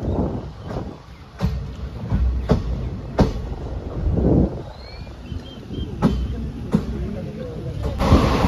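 Passenger train running from Mangalore Central to Coimbatore, heard from inside a carriage as a steady rumble with regular clattering rail-joint clicks and occasional voices in the background.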